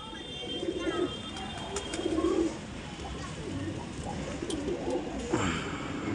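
Soft, low pigeon coos repeat over a steady outdoor hiss, a few birds murmuring at moderate distance with faint chirps mixed in.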